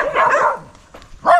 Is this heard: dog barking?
yes